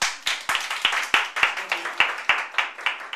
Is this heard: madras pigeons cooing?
no